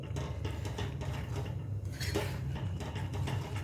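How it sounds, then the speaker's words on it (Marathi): A spoon scrapes and stirs thick gram-flour pithla with fresh coriander in a pan over low heat, soft, steady clinks and scraping under a low background hum, with no talking. "आता यावर खूप सारी अशी कोथिंबीर घालायची आहे आणि व्यवस्थित असं हलवून द्यायचं आहे"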